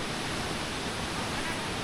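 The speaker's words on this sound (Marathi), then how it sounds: "इकडे बाजूला बघा इथं मस्त झरा वाहतोय, धबधबा छोटासा" A small waterfall and stream rush through dense forest, a broad, constant hiss of flowing water heard close and unbroken, with a voice faintly audible underneath.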